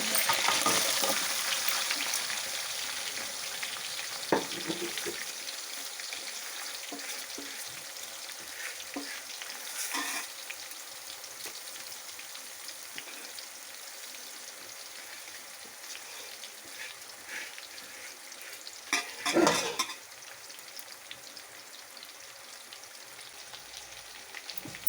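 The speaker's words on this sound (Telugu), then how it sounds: "కొద్దిగా వేగిన తర్వాత ఈ విధంగా కలుపుకోవాలి" Crab pieces frying for a curry, a steady soft sizzle in a pan broken now and then by scraping and clattering as they are stirred, fairly quiet and close, with no talking.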